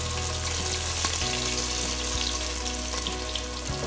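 Garlic and whole spices sizzle steadily in hot desi ghee for Hyderabadi mutton biryani, a close, continuous frying hiss with a few brief pops and clinks of stirring, no voices.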